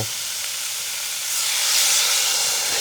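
Radish coated in sesame oil hisses loudly as water or broth is poured into the hot pot, a continuous close steam-like sizzle that swells midway.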